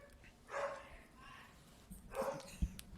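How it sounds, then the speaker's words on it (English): Dogs bark in short bursts, two main yips with a thump near the end, moderately close over a low background, with voices talking around them. "there's dogs in the marketplace, apparently"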